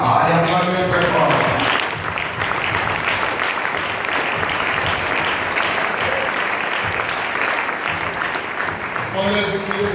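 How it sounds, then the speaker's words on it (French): Loud, sustained applause and cheering from a large crowd at an Easter event, continuous for most of the stretch with brief voices at the start and end. "Allez, acclamez très fort"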